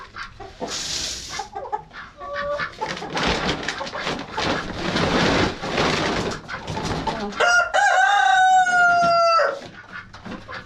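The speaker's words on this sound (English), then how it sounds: "Friend Sydney, and then we got the rooster." A rooster crows loudly and close by, with hens clucking and squawking around it, ending in a long drawn-out crow.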